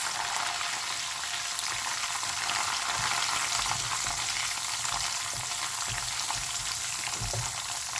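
Whole spices sizzle steadily in hot oil in a pan while being given a little stir, a continuous bright frying hiss with occasional soft scrapes and pops, close and constant, no voices.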